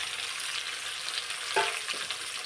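Chopped raw mango tipped into a hot garlic tempering, with a steady broad sizzle throughout and a brief louder burst of frying as the pieces hit the oil and are stirred; no voices.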